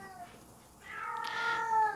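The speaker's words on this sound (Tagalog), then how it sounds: "Maingay yung pusa." A cat meows indoors in a long, rising, drawn-out cry that grows louder toward the end, fairly close and heard alone without talking.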